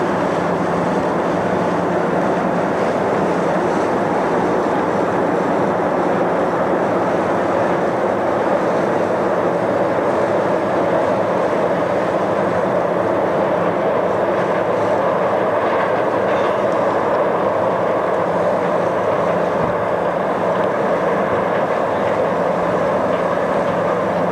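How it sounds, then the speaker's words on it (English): A North Shore Line train rumbles continuously across the Sydney Harbour Bridge, with a steady low roar and faint rhythmic clatter lasting throughout, heard from a moderate distance on a boat in the harbour. "We've got a train passing over here on the bridge in question."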